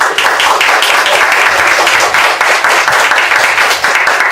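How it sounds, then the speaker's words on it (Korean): A seated audience at a political academy event gives loud, sustained applause to welcome the city mayor, a dense, even wash of many hands clapping at once. "열렬한 박수 환영해 주시면 감사하겠습니다."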